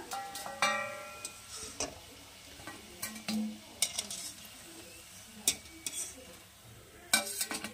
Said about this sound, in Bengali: আমি এরকম করে পুলিগুলোকে সব কটা ভেজে নিয়ে তারপরে প্রসেসে যাব